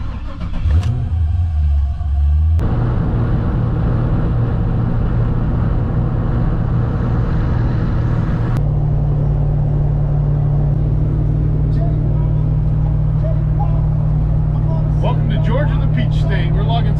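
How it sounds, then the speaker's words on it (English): A supercharged Edelbrock squarebody truck cruising on a road trip: a steady, loud low engine drone holds throughout, with a brief shift early on and voices talking over the road noise. "The truck's been running great so far."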